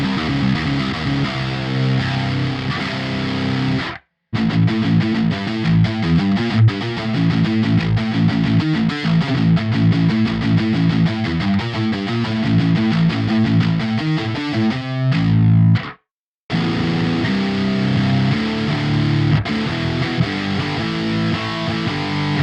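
Heavy distorted metal tone from a Shreddage 2 Absolute 7-string electric guitar, sampled: dense, loud, chugging riffs played continuously with two brief full stops, no voices present.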